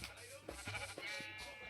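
Sheep bleat in the video game Minecraft, several short nasal baas coming close together in quick succession at moderate loudness, with no talk.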